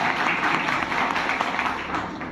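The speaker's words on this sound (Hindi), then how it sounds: "सबके लिए जोरदार तालियां।" An audience at a gathering breaks into loud, sustained applause, a dense wash of many hands clapping together with no pauses.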